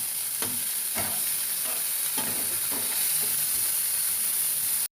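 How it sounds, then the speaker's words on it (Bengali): Chopped tomatoes fry in a pan with green chillies for an egg curry, a steady loud sizzle punctuated by repeated scraping stirs of a spatula, close by and without talk. "টমেটো কুচিটা দিয়ে ভালো করে নাড়তে থাকবো।"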